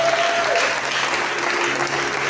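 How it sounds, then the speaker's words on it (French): Applause in a church service, a full, continuous burst of clapping from the congregation, loud and steady across the short stretch with a faint tonal hum beneath. "Ah, donc des acclamations."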